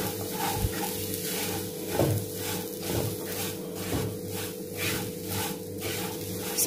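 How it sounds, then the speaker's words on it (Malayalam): A banana stem and semolina stir-fry is mixed in a pan, with rhythmic scraping strokes of a spoon repeating about once a second over a low sizzle and a steady hum. "ഇതെല്ലാം ചേർത്തി ഒന്ന് നന്നായി മിക്സ് ചെയ്ത് കൊടുക്കുക."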